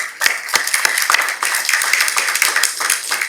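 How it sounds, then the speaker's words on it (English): An audience at a healthcare agreement signing in Guyana gives a round of applause, with distinct, fairly close claps in a brisk, uneven rhythm across the whole short stretch. "A round of applause, please."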